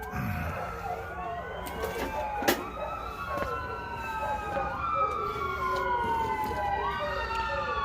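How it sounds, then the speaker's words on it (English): An ambulance siren wails past a house, its rising and falling tones sweeping over a steady rumble of road traffic, growing louder toward the middle and staying fairly close throughout. "I really appreciate those guys running those ambulances by my house every 5 minutes."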